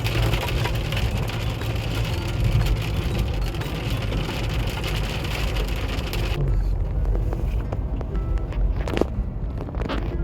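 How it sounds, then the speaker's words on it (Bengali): Heavy rain pours down on a road trip near the Nepal border, a dense, loud hiss of drops drumming on the vehicle that thins a little toward the end. "শুরু হয়ে গেছে প্রচণ্ড জোরে বৃষ্টি"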